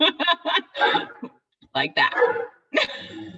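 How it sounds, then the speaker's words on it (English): An English Mastiff and a Daniff barking in a home, several short, loud barks in quick clusters close by, mixed with a person speaking briefly. "I have an English Mastiff and a Daniff, and they get loud."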